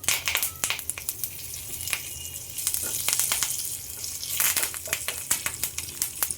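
Asafoetida and curry leaves hitting hot oil in which mustard seeds have already popped, a lively close crackle with rapid spitting pops and bursts of hissing, no voices.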